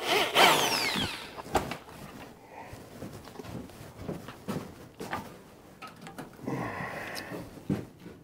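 A power drill whirs in a brief close burst while pre-drilling a hole in wood for a rustic wooden water wheel, then handling clatter and scraping follow, with a second shorter whir later.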